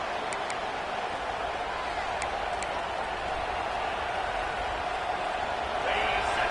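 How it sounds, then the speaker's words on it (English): A football stadium crowd roars to spur on the defense, a steady, dense wash of distant cheering filling the whole stretch, swelling slightly near the end. "Listen to this crowd just shaking the girders of this place trying to help their defense."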